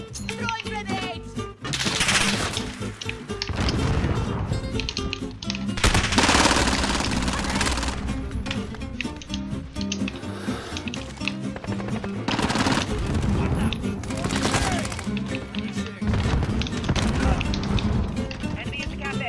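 Loud, dense bursts of automatic gunfire from the Modern Warfare video game, some long and some short, crackle almost without pause over a low background, with soldiers' voices calling out now and then beneath the shooting.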